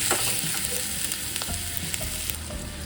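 A paste of ginger, chili and garlic with cumin and sesame sautés in hot oil, giving a steady close sizzle with intermittent scraping and stirring clicks throughout, and no voices.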